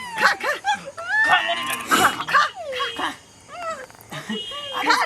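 A female puppy gives high, wavering whines and yips in quick bursts, heard close and loud while people talk around it.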